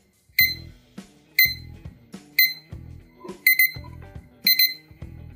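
The alarm on a TS-S63 clock with built-in thermometer and hygrometer beeps in sharp, high electronic chirps, single and doubled, about once a second, close by and moderately quiet, with faint low thumps between.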